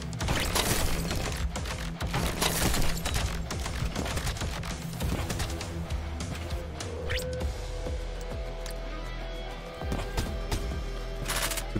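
Rapid, dense smart pistol gunfire in the video game Super Street Slider Hyper Turbo (Chainsaw Edition), a continuous barrage of loud shots layered with game effects and music.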